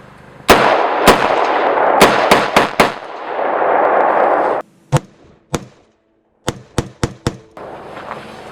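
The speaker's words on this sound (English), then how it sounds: "50 cal style muzzle brake on the end of it, so it shoots very nice" A rifle fitted with a 50 cal style muzzle brake firing at night, about a dozen loud, sharp reports in irregular groups, the early ones over a rushing hiss and the later ones ringing out alone.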